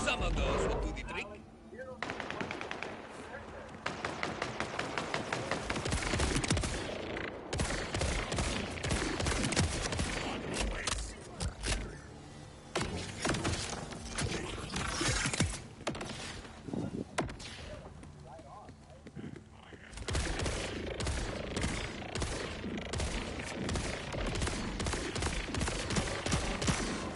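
Grenade explosions and rapid gunfire in the video game Borderlands 4, with repeated dense bursts and heavy blasts spread over about half a minute, broken by brief lulls, with a voice talking over the action.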